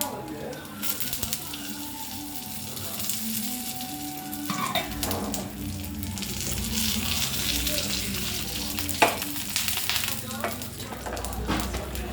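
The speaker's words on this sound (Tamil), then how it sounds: "கருவேப்பிலை போட்டு தாளிக்கணும்." Steady crackling sizzle of mustard seeds, urad dal and curry leaves tempering in hot oil, loud and continuous, with occasional stirring clinks and brief faint talk in the background.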